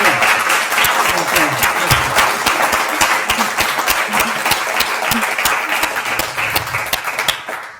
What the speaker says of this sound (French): On peut applaudir peut-être pour clôturer